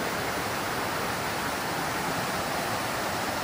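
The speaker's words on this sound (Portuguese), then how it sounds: "cachoeira." A waterfall near a campsite at Aldeia Velha, Rio de Janeiro, gives a constant, dense broadband roar of falling water. It sounds steady and close, with no voices.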